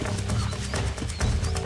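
Horse in the video game Red Dead Redemption, clopping and shuffling close by with steady hoof sounds and a low snort, filling the short stretch without any voices over it.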